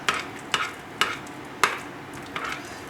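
Confectioners' sugar glaze being stirred for strawberry rhubarb scones, with a spoon knocking the bowl about five times at an uneven pace against a soft scraping background, close by and with no talking.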